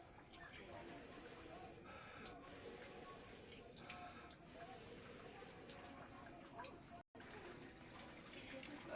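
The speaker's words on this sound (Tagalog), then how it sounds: "Kaparts, kumukulo na." Steady bubbling, rushing water noise of a pot at a boil, continuous with slight surges, fairly close, with a brief dropout near the end.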